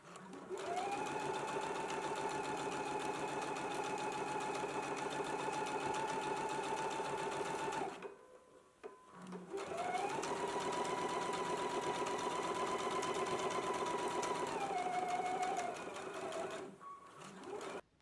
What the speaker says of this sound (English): we can go to the sewing machine and we're going to stitch in a 5/8 of an inch seam allowance